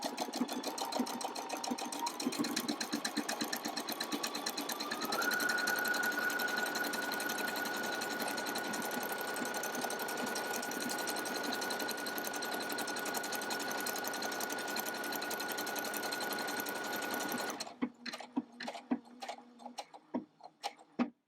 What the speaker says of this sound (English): all I need to do is step on the foot pedal, and the machine is going to do most of the work for me